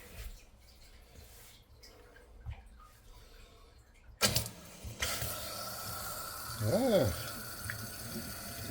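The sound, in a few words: water running from Grohe Concetto pull-down kitchen faucet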